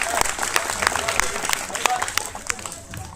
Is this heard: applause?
yes